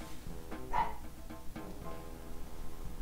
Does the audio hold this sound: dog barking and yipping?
yes